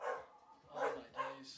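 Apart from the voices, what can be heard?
dogs barking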